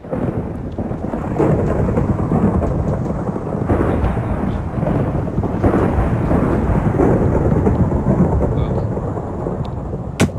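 A heavy thunderstorm with continuous loud rain and rolling thunder, the rumble swelling and fading throughout, with a sharp crack right at the end.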